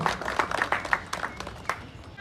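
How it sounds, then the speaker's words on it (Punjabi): Applause from an audience welcoming guests at a Punjabi community event, a burst of irregular clapping heard from the room, moderately loud and fading over a couple of seconds. "ਜ਼ੋਰਦਾਰ ਤਾਲੀਆਂ ਨਾਲ ਇਹਨਾਂ ਦਾ ਸਵਾਗਤ ਕੀਤਾ ਜਾਏ"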